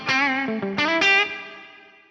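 A Boss SY-1000 modelling a 335-style hollow-body electric guitar plays a short melodic phrase of sustained, harmonically rich notes with slight chorus and mild drive, the last note ringing and fading, no voices.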